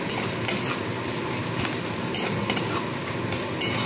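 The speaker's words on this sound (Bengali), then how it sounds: "চিনিটা দিয়ে ভালো করে পেঁয়াজটাকে আরেকটু হালকাভাবে ভেজে নেব" Onions frying in a pan after sugar and Kashmiri chili powder go in, a steady soft sizzle with a few light clinks of a spoon against the metal, no voices.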